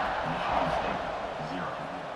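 A stadium crowd roars in a college football video game, a dense sustained wash of cheering that stays loud throughout, with a commentator talking over it.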